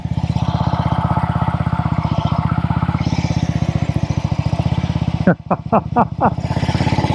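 A 1964 Velocette Venom Veeline Clubman single-cylinder racer is ridden, its engine thumping in a loud steady rhythm close by, then dropping into a few sharp blips and revs before pulling again.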